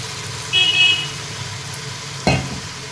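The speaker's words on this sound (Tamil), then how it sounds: "இந்த மாதிரி நல்லா இஞ்சி பூண்டு வதங்கினதுக்கப்புறம் புதினா தழை வந்து நல்லா அலசி வச்சுருக்கேன் அதை சேர்த்துக்கலாம்" Washed mint leaves go into ginger and garlic frying in a pan for chicken biryani, giving a low, steady sizzle with one sharp clatter of stirring near the end.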